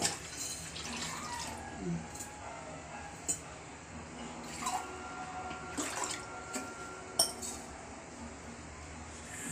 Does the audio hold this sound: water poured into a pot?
yes